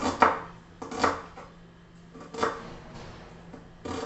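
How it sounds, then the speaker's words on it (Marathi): An onion is sliced thin with a knife on a board, four or five crisp, separate chops spaced irregularly, close and clear with no talk. "कांदा पहा, कांदा कसा चिरायचा"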